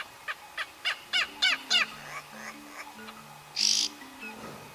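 Oxpeckers perched on a white rhinoceros give a rapid series of six or seven harsh, raspy calls, then a short hissing burst, with soft low tones beneath.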